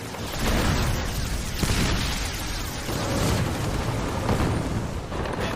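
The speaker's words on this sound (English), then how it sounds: "Explosions and shell bursts illuminate the battlefield." Continuous rumbling booms and bursts of exploding shells on a night battlefield, dense and loud, with scattered sharper cracks layered over a heavy low roar.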